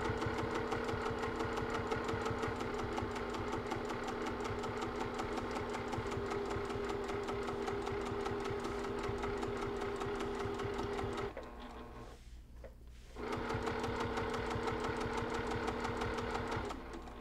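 A sewing machine stitches a cross stitch pillow with a bed attachment fitted, running as a steady close rapid whir that pauses briefly for about two seconds before resuming.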